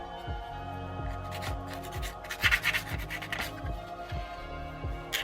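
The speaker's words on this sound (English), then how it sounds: "just sand all over and see what you can get off" Sandpaper rubbed over a wooden model bridge piece to clear off wispy bits, making steady back-and-forth scratchy strokes in a regular rhythm, close and moderately loud with no talking.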